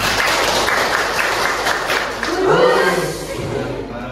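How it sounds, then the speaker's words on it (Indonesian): A group claps together in a classroom, a steady wash of applause lasting several seconds and fading slightly toward the end. "Tepuk tangan"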